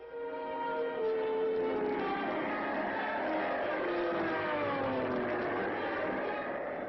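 Droning engines of British and American military fighters and bombers roar steadily overhead, their pitch sliding as planes pass, loud and continuous with a rough, old-recording quality.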